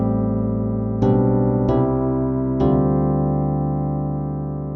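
Piano plays the ending chords of a song, three struck chords about a second apart, each left ringing and fading alone.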